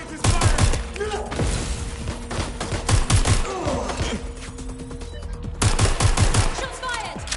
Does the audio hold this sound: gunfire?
yes